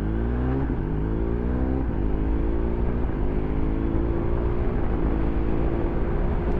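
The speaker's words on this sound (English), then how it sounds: "I love the farty goodness of this boxer engine." A BMW R1250R motorcycle's boxer engine runs with a steady, throaty, rumbling note that rises and falls slightly as it revs, close and continuous with no talk.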